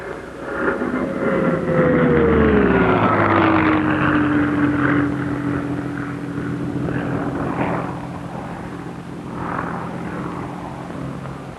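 A Bell P-39 fighter drones past in flight, its engine and propeller a steady loud roar with a slowly falling tone as it passes, then settling into a constant distant hum.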